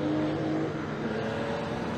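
BMW E30 325i touring race cars in a circuit race, heard as a steady, moderately distant engine drone as the field goes by.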